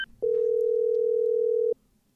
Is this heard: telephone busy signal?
yes